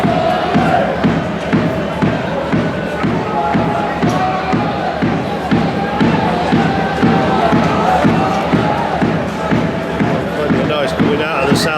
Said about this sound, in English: Plenty of noise coming out of the south stand, but nothing to cheer about just at the moment